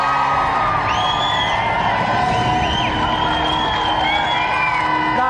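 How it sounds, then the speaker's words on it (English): Studio audience at a televised games show cheers and whoops loudly and continuously, a dense crowd roar with shouts rising above it. "let's give another round of applause for our 2 special guests, Roger Black and Dwayne Ladejo."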